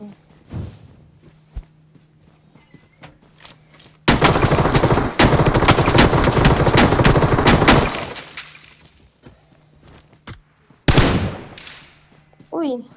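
Gunfire in the battle-royale game PUBG Mobile: a dense, loud burst of rapid automatic shots for about four seconds, then a later short burst, with quieter movement sounds and faint game ambience between.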